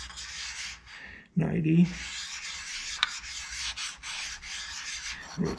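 Steel being lapped on a lapping plate with compound makes a steady gritty rubbing and scraping, moderately close, with a brief louder scrape near the start and a short spoken remark.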